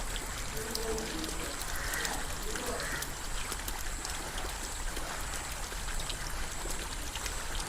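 Backwash water from an iron-removal water filter pours from a pipe run out toward a coconut palm's basin, making a continuous, even splashing flow at low level with no pauses and no clear talk.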